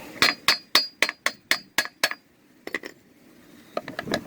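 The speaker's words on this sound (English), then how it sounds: "Take your hammer and you want to tap on it a little bit." A hammer tapping on a vehicle's universal joint to loosen it, a quick series of about nine sharp metallic taps in a steady rhythm, then a short pause and a few more scattered clinks, close and clear.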